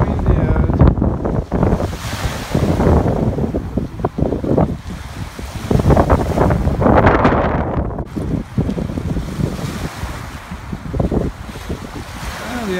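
Strong wind buffets the microphone in heavy gusts at a beach, with surf rumbling underneath throughout.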